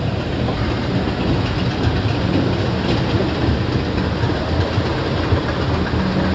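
A train passes close by with a continuous loud rumble and rolling rail noise that holds steady for the whole stretch, with no voices over it.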